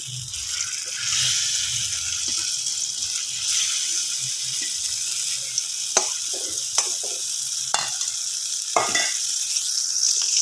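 Oil sizzles steadily in a flat pan over the whole stretch, with a few sharp scraping clicks from a ladle lifting food out near the end.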